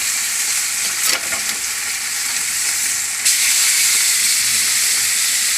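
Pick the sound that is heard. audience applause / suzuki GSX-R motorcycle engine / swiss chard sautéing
swiss chard sautéing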